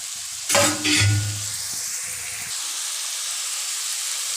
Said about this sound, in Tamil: இதையும் நல்லா நைஸாக வதக்கி விட்டுருங்க